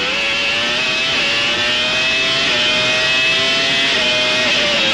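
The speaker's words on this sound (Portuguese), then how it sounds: "Você vai aí a bordo do carro de Damon Hill, curtindo o som do motor Renault, as mudanças de marcha, o traçado do piloto inglês." A loud, screaming Renault Formula 1 engine heard onboard at the 1995 Australian Grand Prix, pitch climbing steadily and dropping sharply at each quick gear change, then climbing again.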